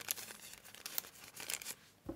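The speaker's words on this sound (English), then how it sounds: "we are going to just cut that one away" Scissors snip through a paper seed packet in a few quick, close crinkling cuts with short pauses between them. The sound is fairly quiet.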